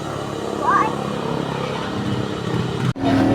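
A motorcycle in Zamboanga del Sur, Philippines, sets off for a ride to the sea, its engine droning steadily and close with a rising rev, then briefly cutting out before resuming.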